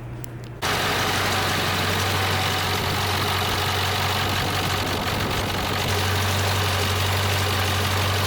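An old-body-style Ford Powerstroke diesel truck engine rumbles to life and then idles loud and close, a steady, even low drone that runs uninterrupted for about eight seconds.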